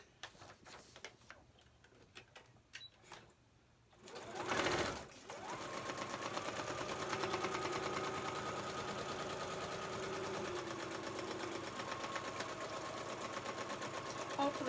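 Sewing machine stitching through a junk journal signature, running steadily and fairly loud after a few seconds of soft handling clicks and rustling.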